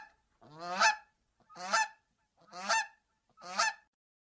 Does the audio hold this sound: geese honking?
yes